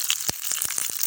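Cubed onion pieces frying in a wok, a steady hot crackle overlaid with several sharp clattering knocks spaced through the short stretch, close and fairly loud with no voices.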